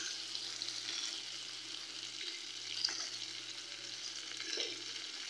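Flat beans frying with potato and radish in a pan for a rohu fish dish, a soft, steady sizzle at low volume with a faint low hum and an occasional light scrape.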